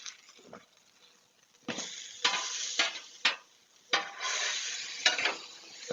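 Carne asada–seasoned beef cooking in a pan for Tex-Mex enchiladas, a soft sizzle broken by several scraping stirs and spatula strokes, moderately close with quiet gaps between them.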